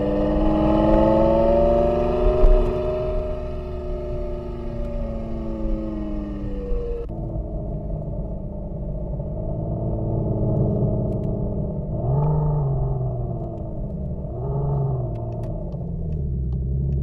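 A Škoda Octavia fitted with a V10 engine sound system drones steadily while driving, a loud low rumble with a held tone that drops off, then rises in two short throttle swells.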